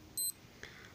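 A wrestling-themed digital wristwatch gives a short, shrill electronic beep near the start, followed by a softer faint tone, alone in a quiet room.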